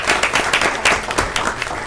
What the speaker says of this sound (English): So we want to give you all a round of applause